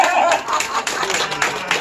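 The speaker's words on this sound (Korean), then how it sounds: "박수 한번 쳐봐" Group clapping in a seniors' healing laughter exercise class, a quick patter of many hands with voices and light laughter mixed in.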